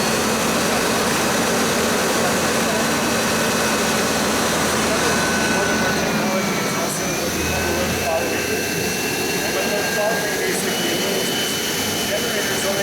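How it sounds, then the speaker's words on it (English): A large truck engine drones steadily and loudly nearby, its pitch shifting slightly as the revs climb, with a voice faintly underneath. "Now the RPM's kicking up to give it some power."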